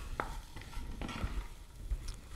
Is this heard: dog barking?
no